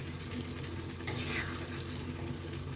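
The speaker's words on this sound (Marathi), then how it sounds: "पुन्हा एकदा मिक्स करून घेऊया, म्हणजे ते लिंबाचा रस आपल्याला सगळ्या बाजूनी सगळ्या कलेजीला व्यवस्थित लागेल." Chicken liver fry being stirred in a pan after the juice of a whole lemon goes in, with a steady, close sizzle and soft scraping that swells briefly midway, and no voices.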